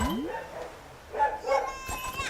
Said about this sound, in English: Dangle is saying something to set that dog off.